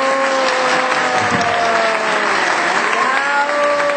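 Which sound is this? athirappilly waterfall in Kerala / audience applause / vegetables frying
audience applause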